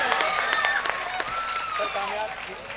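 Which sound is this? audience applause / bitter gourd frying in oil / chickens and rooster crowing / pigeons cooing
audience applause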